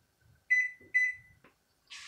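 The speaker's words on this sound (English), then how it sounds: "I'm gonna start me a timer for 20 minutes" A kitchen timer is set for a simmering pineapple jam and gives two short, bright electronic beeps in quick succession, close and clear, followed by a faint rustle.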